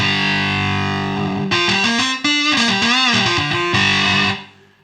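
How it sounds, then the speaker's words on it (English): A Roland EA7 keyboard's jazz guitar sound with heavy distortion plays a short riff of sustained, gritty chords and bends, loud and close, then fades out. "Let's put some distortion on the jazz guitar sound."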